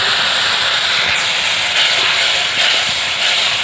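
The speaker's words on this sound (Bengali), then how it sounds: "এবার অল্প কিছুটা একটু জল দিয়ে দেব।" Water poured into hot spice paste with ground cumin in a pan, a loud, close, continuous steamy hiss that holds steady for a few seconds with no speech.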